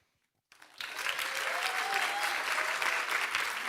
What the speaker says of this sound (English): let's give a big round of applause for the helping hands we have there on the left side